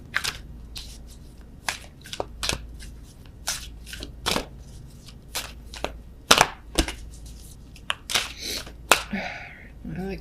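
Wisdom of the Oracle deck being shuffled by hand, a close series of sharp crisp card snaps and riffles in uneven bursts, loud against a quiet room, with a little faint talk near the end.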